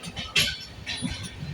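Inside a moving train, a low rumble and rattling carriage noise carry on steadily, with a brief hiss and faint clinks.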